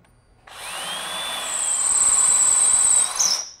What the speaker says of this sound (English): So you're going to drill a 1/4" hole